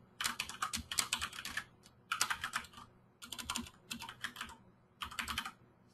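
Typing on a computer keyboard, with quick clattering bursts of keystrokes in about five groups separated by short pauses, close and fairly quiet, with no talking.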